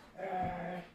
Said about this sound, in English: it's super loud because the dog and my husband are still playing